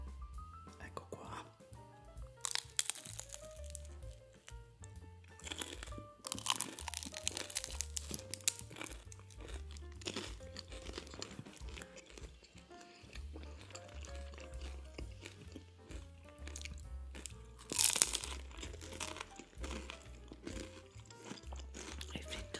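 Crisp bites and crunchy chewing of a Mauritian samosa triangle dipped in barbecue sauce, recorded close up in an ASMR setting, with bursts of crackling crunches separated by quieter chewing and soft whispered talk.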